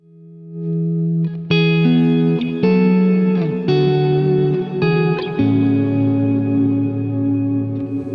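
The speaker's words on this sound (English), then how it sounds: "more ambient tones, thicker reverbs and delays, for example, like this shimmer preset over here" Electric guitar chords through a Line 6 Helix shimmer reverb preset ring out, bright octave-up swells hanging over sustained tones, several strums blending into a wide ambient wash.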